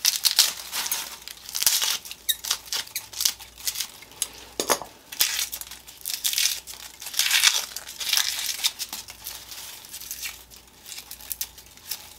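Dry, papery outer skins are peeled and crinkled off bulbs by hand, leaving a short stem, producing continuous close rustling and crackling with occasional light knocks.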